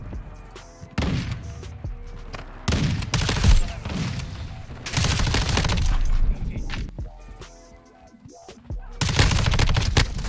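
Rapid bursts of automatic gunfire from Modern Warfare 2, loud and close, in repeated volleys with brief pauses between them and no talking over the shots.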